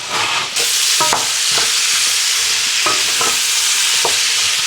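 Onions sizzle loudly in a hot pan with bacon bits, a dense continuous frying hiss broken by several sharp spatula scrapes and taps, close up and with no voices.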